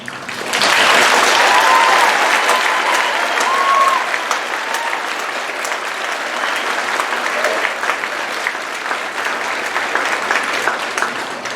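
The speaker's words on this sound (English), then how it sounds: "Will you all join me in a round of applause?" Sustained applause from a graduation ceremony audience, loud and dense throughout, with a few faint whistles or cheers rising briefly near the start before the clapping settles to a steady roar.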